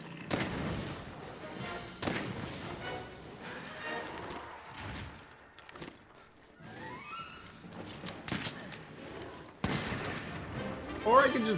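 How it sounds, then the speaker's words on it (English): Tranquilizer ammo fires from a bowgun in Monster Hunter World, a series of sharp punchy shots spaced out over several seconds amid game sound effects, with someone talking over them. "I'm going to blast it with the trank ammo, and that should put it to sleep"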